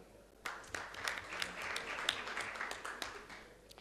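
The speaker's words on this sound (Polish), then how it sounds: "Oj, tutaj się należą brawa." Quiet, distant clapping from people gathered at a Grajewo city council session starts abruptly and continues as a loose patter of separate claps, low in level throughout.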